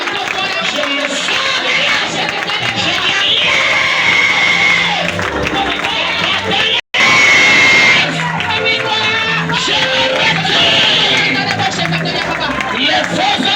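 A church congregation at a deliverance service cheers and acclaims loudly throughout, with a continuous crowd roar and voices shouting over one another nearby.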